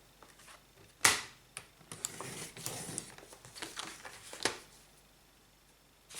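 Paper slid into place and cut on a guillotine paper cutter while a display stand for stickers is made: quiet rustling and scraping with a sharp cutting thunk near the start and a few lighter clacks afterward.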